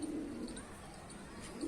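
Pigeons coo on a rooftop in cold weather, a soft low coo at the start and again at the end over faint open-air background.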